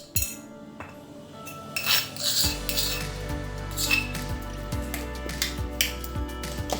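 A spoon stirs ground spice paste into a salted jambal roti fish mixture for pepes, giving light clinks and scrapes against the bowl over a steady tonal background.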